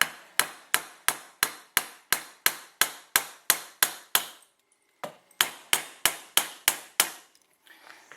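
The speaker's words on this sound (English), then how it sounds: "So then we'll just stick that in there and carefully hammer away." Sharp metallic hammer strikes ring out in a fast, even rhythm as a pin is driven into an AR-15 rifle part, a long run of blows, a short pause, then another run.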